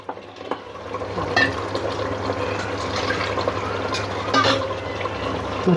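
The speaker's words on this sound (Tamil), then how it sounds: "ரெண்டு கிண்ணம் தண்ணி போட்டுக்கோங்க" Water pours steadily into a cooking pot of mutton bone gravy for several seconds, a continuous liquid splashing and gurgling with a few louder drips, close by.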